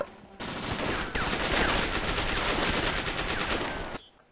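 Rapid automatic gunfire in the survival video game DayZ rattles out loud and close in a continuous burst lasting several seconds, then stops abruptly.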